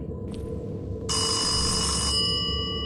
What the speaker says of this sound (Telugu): ఓ నో, ఫోన్ వస్తుంది.